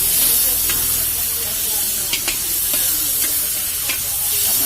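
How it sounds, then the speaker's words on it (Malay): White-breasted waterhen meat fries half-done in a pan for mie Aceh, giving a steady loud sizzle and hiss with scattered crackles and pops throughout, no talking. "Kita goreng setengah matang guys"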